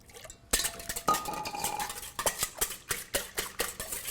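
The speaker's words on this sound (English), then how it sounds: "And you whisk that well with the water." Eggs whisked with water in a bowl for crepe batter, with quick rhythmic clinks and scrapes of a utensil against the bowl, close up and moderately loud, with no talk.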